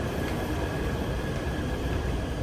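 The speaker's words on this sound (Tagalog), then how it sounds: "Ito na yung tren. Ito na yung MRT for Tamsoy." An MRT train on the line to Tamsui, Taiwan, gives a steady, close rumble of rolling rail noise that holds evenly throughout, with no voices.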